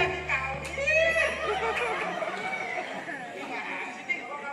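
A performer in a Lenong Betawi folk theatre show imitates a rooster crowing with a drawn-out, wavering cry, followed by chatter and a voice.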